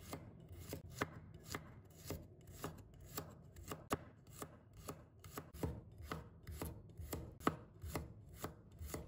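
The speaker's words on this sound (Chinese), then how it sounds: "我们再准备1把大蒜， 把它切成片" A knife slices a handful of garlic cloves on a cutting board in steady, crisp chops, roughly two per second, close and clear with no talking.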